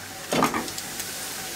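Meat is being sautéed and stirred in a pan, giving a soft, continuous sizzle. A short burst of scraping and stirring sounds comes near the start, and the hiss keeps going steadily after it.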